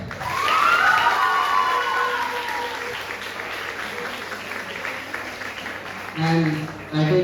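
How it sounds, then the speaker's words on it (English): An audience applauds a school debate team captain, a burst of clapping that fades away, followed by a few scattered louder sounds and a voice near the end. "Let us clap for her."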